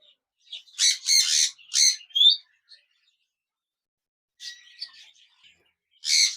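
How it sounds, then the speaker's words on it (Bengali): A pair of golden finches chirps in short, bright bursts, a quick cluster of calls, a pause, then a few more close-by chirps in a quiet setting. "এখানে দেখতে পাচ্ছেন একজোড়া ফিন্স পাখি রয়েছে"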